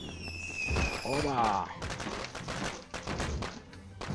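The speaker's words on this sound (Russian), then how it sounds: "Эти фейерверки останавливают жестко." Fireworks go off in the Rock of Ages 2 video game, a string of sharp bursts and crackles layered over game effects and whistling tones.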